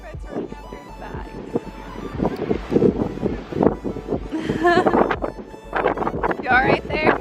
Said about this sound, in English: I don't think you're gonna hear anything because it's so windy